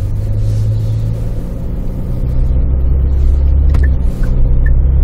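A 2019 SsangYong Rexton Sports pickup accelerating on the road, with a steady low engine rumble that swells a little midway and holds on without break or talk.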